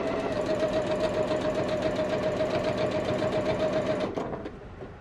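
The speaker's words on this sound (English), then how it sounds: "I can kind of go back and forth and reinforce that stitching a little bit." A sewing machine runs in one continuous, even whir of rapid stitching while reinforcing seams on a quilt, then slows and stops near the end.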